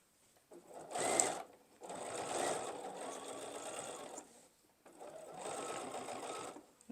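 A sewing machine stitches binding onto a quilt in three separate bursts, a short run followed by two longer steady runs with quiet gaps between them, close and clear.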